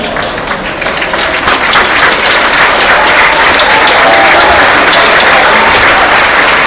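An audience on its feet gives a standing ovation, and loud, dense applause from the whole crowd holds steady and even for several seconds.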